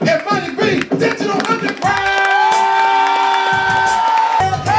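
A party-cruise crowd cheers and shouts loudly for performers, with dense overlapping voices at first, then a sustained musical tone holds beneath the crowd noise.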